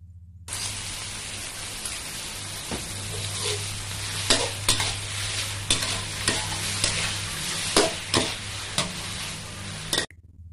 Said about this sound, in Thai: ใส่มะเขือเทศลงไปเลยค่ะ แล้วก็ผัดต่ออีกครั้งหนึ่งค่ะ